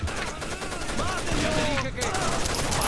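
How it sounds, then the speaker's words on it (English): Dense gunfire rattles continuously in the Rainbow Six Vegas video game, a loud fusillade of rapid shots layered with game effects and some voice underneath. "I've got a machine gun"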